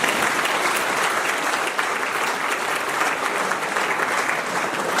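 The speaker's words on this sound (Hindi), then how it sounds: "सब लोग अपने लिए ताली बजाएं।" Steady, dense applause from a large audience at a spiritual gathering, filling the whole moment at an even, loud level without pause.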